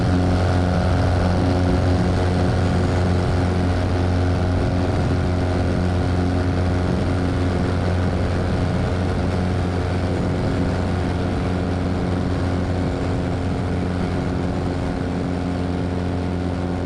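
A Zenith light aircraft's propeller engine runs at full takeoff power, a loud, steady drone with strong harmonic tones held unbroken throughout, close to the microphone.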